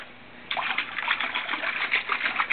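A bird hide is rinsed in cold water. Water gushes and splashes steadily and close after a quiet half-second start, with no voices.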